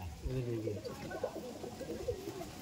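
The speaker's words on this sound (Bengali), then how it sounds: "ম্যাড্রাসি পায়রা" Soft, rolling coos of Madras pigeons repeat close by, mixed with faint voices and rustling in the background.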